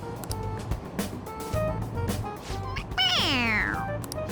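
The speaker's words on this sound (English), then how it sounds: "It meows when you press on its head." A toy cat from the game Persona 5 Royal lets out a single bright, rising-then-falling meow when pressed, cutting clearly above quiet game background sounds and scattered clicks.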